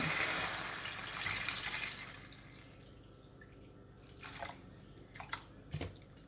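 Water pours steadily into a pot of Haitian bread soup, a soft continuous splashing stream that fades out and gives way to a few faint drips and clinks in a quiet kitchen.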